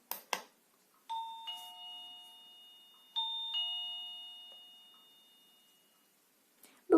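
An Orno OPERA DC wireless battery-powered doorbell chime rings twice, each time a clear two-tone electronic ding-dong that rings out and slowly fades, with soft button clicks between, close up in a quiet room.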